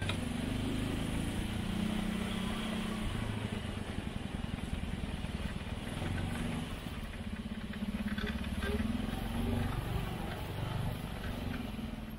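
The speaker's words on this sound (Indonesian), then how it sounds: "Ikuti saja motor-motor yang melewati gang ini" Motorcycles ride through a narrow residential alley in Indonesia, a steady close engine drone and rattling clatter continuing throughout without a break.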